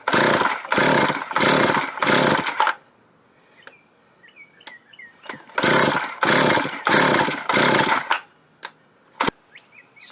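A chainsaw engine driving an air compressor on a test run roars in loud bursts, three revving runs, a pause with faint clicks and birdsong, then three more roaring bursts, close by.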